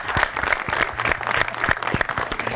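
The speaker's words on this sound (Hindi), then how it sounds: "एक बार तालियां होनी चाहिए।" A studio audience on a Pakistani TV cricket talk show breaks into lively, sustained applause with dense overlapping claps. It is loud and close throughout.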